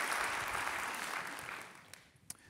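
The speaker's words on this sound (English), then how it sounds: "Let's give them a round of applause." Audience applause at a civic event in Long Beach, a dense wash of clapping that holds steady and then thins out toward the end, with no voices over it.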